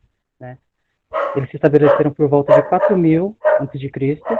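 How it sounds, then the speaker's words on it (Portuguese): A pet dog barks near a microphone during an online class, a short yelp early on, then small bursts among continuous close talking. "Tem um cachorro latindo aí no microfone?"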